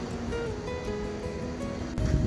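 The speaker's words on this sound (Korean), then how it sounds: "파도 오는 거 보십시오" Sea waves breaking on a rocky shore of the East Sea at Simgok near Gangneung, South Korea, a continuous wash of surf with wind noise and a louder surge near the end.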